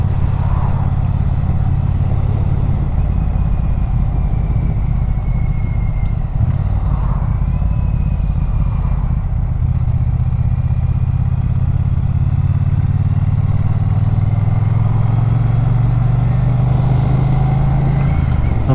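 A Triumph Bonneville T120 motorcycle on a ride out, its engine droning loud and steady with wind rush, pitch rising near the end as it accelerates.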